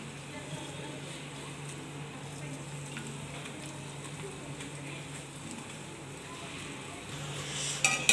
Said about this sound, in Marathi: जेवढे बसतील तेवढे आपल्याला हे गुलाबजाम आहे ते तळून घ्यायचे आहेत